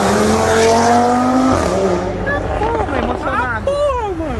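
A car accelerating on Avenida Europa gives a loud engine note that rises in pitch, then shifts through quick revving sweeps, heard close over street noise, with voices talking over it.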